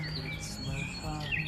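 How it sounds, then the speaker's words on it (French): Birds singing on a sunny early morning, several high chirps and whistled phrases layered over a steady low hum, moderately distant and continuous. "les oiseaux semblent réellement de bonne humeur"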